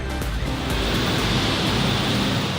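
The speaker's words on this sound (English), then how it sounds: "I'll give you a view of this hard rain out here." Hard rain pours down outdoors in a dense, continuous broadband hiss and roar, steady and loud throughout with no voices.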